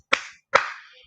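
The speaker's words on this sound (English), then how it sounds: "Can we get a round of applause for Cheryl Lee Ralph?" Two sharp, separate hand claps land about half a second apart, close and crisp, each with a short ringing decay and nothing else around them.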